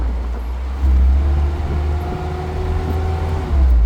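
A van out on a test run after a repair, its engine droning loud and steady with a low rumble that swells as it accelerates, close and continuous with no talk.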